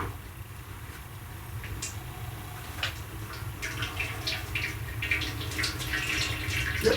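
Water slowly draining through ground fresh indigo leaf mash, a soft trickling and dripping that builds gradually, close with faint background hum and no talk.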